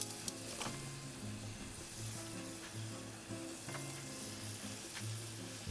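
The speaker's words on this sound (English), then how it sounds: "Add my herbs into my pan real quick" Fresh herbs hit a hot pan being readied for bacon-wrapped filet mignon, giving a steady close sizzle with faint stirring scrapes and no talking.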